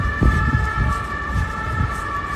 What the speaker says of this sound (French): Là, on entend vraiment les sirènes de partout.